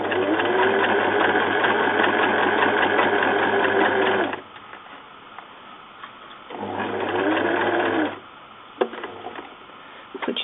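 A sewing machine stitches a zip into a cushion in two steady, whirring bursts with a pause between them, ending in a few quiet clicks.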